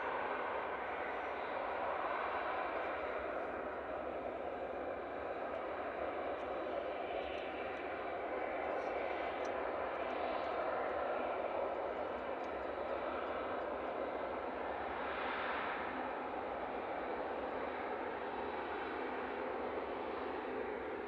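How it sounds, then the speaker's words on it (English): An eight-year-old Emirates Airbus A380 taking off from Manchester for Dubai, a fairly faint, distant, continuous engine rumble and hiss holding steady for the full stretch with no voices. "Emirates EK20 heading back to Dubai. This is A6 EOR, an 8-year-old A380."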